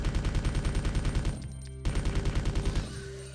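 A submachine gun fires in a Resident Evil game, rapid sharp reports in fast bursts broken by a brief pause, loud and close with a ringing tone underneath and no talk.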